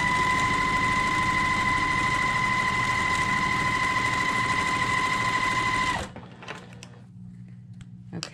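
A sewing machine stitches a quilt block in one steady, fast, whirring run close by, then stops abruptly, leaving faint handling noises.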